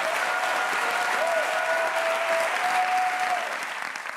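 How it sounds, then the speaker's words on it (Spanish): A studio audience on a television talk show applauds a guest, sustained dense clapping that holds evenly and then tapers off slightly at the close, with a faint thin tone running through it. "un aplauso para Sofía, que me ha traído la curación"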